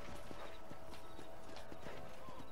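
Horse hooves in the Red Dead Redemption video game clip-clop in a steady, even rhythm at a moderate distance, fairly quiet throughout, with no speech.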